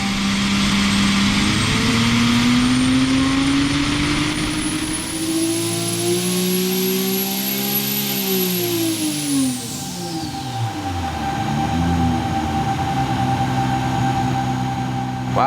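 A turbocharged engine revs hard under boost, its tone climbing steadily then falling away, joined by a rising high turbo whine that sweeps upward and fades; loud and continuous with no talk.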